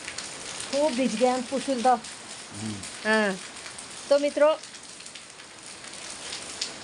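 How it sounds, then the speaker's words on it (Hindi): Heavy monsoon rain falls steadily on a mountain village in Uttarakhand, a constant hissing patter running throughout while someone speaks over it in short bursts. "बहुत बारिश है।"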